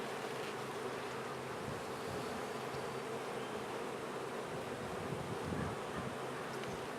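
Honeybees buzz steadily around an open Borntrager hive during an inspection, a dense, continuous drone close by with faint wind noise and occasional rustling, no talking.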